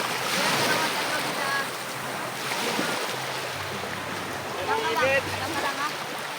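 Steady wash of open-sea surf and wind at a beach in San Andres, Quezon province, Philippines, across the whole stretch, with faint voices and chirpy sounds rising near the end.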